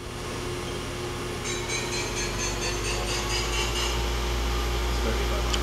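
A Mori Seiki NLX-2500SY CNC turning center runs its main spindle at 1500 RPM with a steady machine hum and whir, while someone speaks over it and faint rhythmic ticking appears midway.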